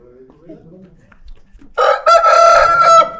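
A rooster crows loudly and close by, one long drawn-out call after a quiet stretch with faint background noise.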